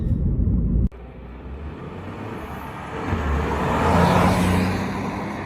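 Ford Focus driving along, a steady broadband road and engine rumble heard from inside the car, with a sharp cut early on and then a continuous, slightly rising drone.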